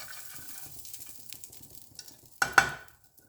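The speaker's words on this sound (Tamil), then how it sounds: "அடுத்து இந்த தேங்காயெலாம் நம்ம வறுத்துக்கலாம்." Grated coconut roasting in a pan gives a soft, low sizzle while it is stirred, then two sharp metallic scrapes or knocks of the spoon against the pan ring out near the end.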